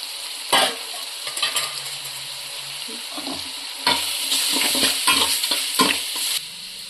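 Onion, tomato and masala frying and being stirred in a pan for mutton biryani, a steady close sizzle broken by scraping stirs and a few clanks of the spoon against the pot.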